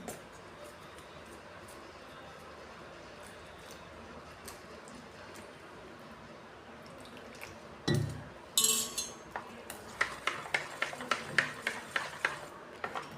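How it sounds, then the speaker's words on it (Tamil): A spoon clinks and scrapes against a bowl in quick, uneven strokes, mixing sweet potato bonda batter, growing busier toward the end after a quiet stretch of low background noise. "இதில் கொஞ்சம் கொஞ்சமாக தண்ணி சேர்த்து கலந்துக்கிடணும்"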